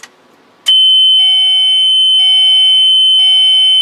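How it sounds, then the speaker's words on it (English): A bookmobile's step-out warning buzzer sounds with the ignition on: after a brief click, a loud, steady high-pitched electronic whine starts and holds, with faint repeating beeps underneath. "I'll turn on the ignition and you'll hear the buzzer."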